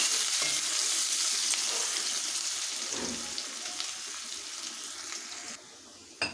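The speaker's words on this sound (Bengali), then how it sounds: "এবারে দিয়ে দেবো কোচানো পেঁয়াজ পেঁয়াজটাকে একটু ভেজে নেবো" Sliced onions frying in oil with whole cardamom, cinnamon and cloves make a loud, continuous close sizzle that gradually eases, ending with a quieter stretch and a short final clatter.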